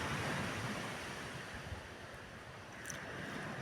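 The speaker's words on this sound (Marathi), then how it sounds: "तुम्हाला आत्ता लाटांचा आवाज येत असेल" Continuous rushing surf at high tide fills the clip, waves breaking and washing in a broad hiss, with some wind noise on the microphone.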